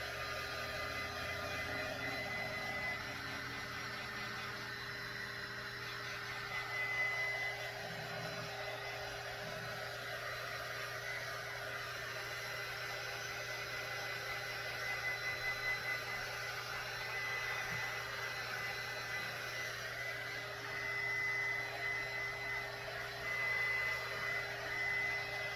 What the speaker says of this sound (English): let's go ahead and give this a quick dry